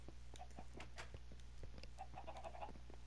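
Repeated Minecraft chicken clucks, several birds clucking in quick uneven bursts over a constant low background drone, close and fairly loud, no speech.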